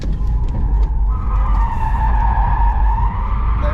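Base Porsche Taycan RWD electric car skidding around a skid pad, a loud sustained tyre squeal wavering in pitch for several seconds over steady road rumble, close and continuous.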